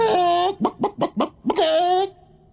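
A voice imitates a chicken, giving a run of four or five short clucks between two drawn-out squawking calls, loud and close, then falls silent.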